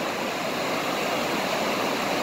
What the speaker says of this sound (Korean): 잠실 수중보의 물소리가 우렁찹니다.